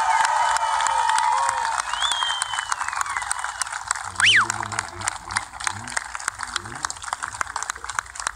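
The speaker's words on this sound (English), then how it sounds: "How about one more really loud, crazy round of applause for these veterans?" A crowd applauds and cheers loudly and steadily for veterans at a Memorial Day event, with a whistle rising over the clapping and a voice briefly heard beneath the noise.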